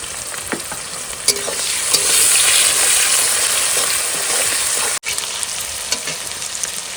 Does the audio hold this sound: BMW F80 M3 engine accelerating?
no